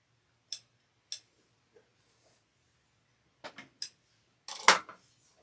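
Sharp snips of scissors trimming threads on a sewn Halloween trick-or-treat basket, isolated crisp cuts spaced apart in a quiet room, ending in a quick cluster of clicks.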